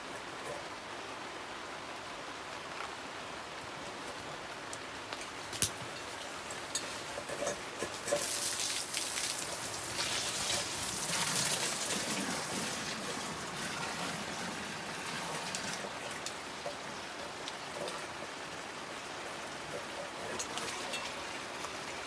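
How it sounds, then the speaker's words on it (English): Water from a garden hose splashes steadily into a dog's water dish outdoors, a continuous hissing spray that swells louder midway and then settles, with no talking over it. "I'm gonna bring the hose over and fill up her water dish"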